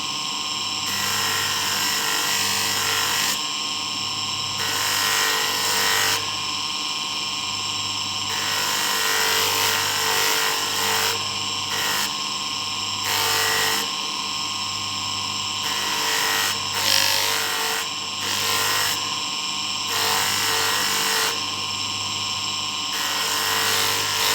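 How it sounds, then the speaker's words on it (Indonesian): Sandpaper rubbing along the side of a mokume gane ring, heard as repeated bursts of bright, scratchy abrasion in an irregular back-and-forth rhythm, close and fairly loud, with brief pauses between strokes and no talking. "sekarang di sampingnya juga kita amplas"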